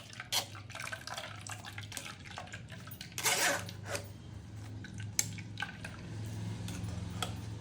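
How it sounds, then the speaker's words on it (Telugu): Coconut milk from ground coconut poured and strained through a mesh sieve into a bowl, wet splashes and irregular drips with squishy pressing sounds, close and fairly quiet. "పైన జాలి పెట్టి జాలీలో పోసేస్తే కొబ్బరి పాలన్నీ అడుగు దిగిపోతాయి"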